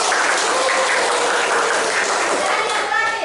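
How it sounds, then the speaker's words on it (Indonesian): A classroom audience at a microteaching competition claps, a dense burst of applause that is loud and sustained, with voices mixed in. "Tepuk tangan dulu"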